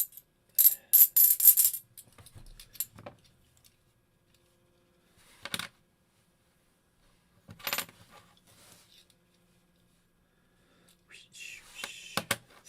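Half dollar coins are handled in sharp metallic clinking bursts, with scattered clicks and clatters separated by quiet gaps, close and fairly faint.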